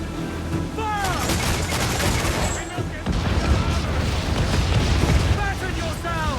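Pirate ship cannons in Assassin's Creed fire in heavy, overlapping booms over constant battle din, with shouting voices breaking through now and then.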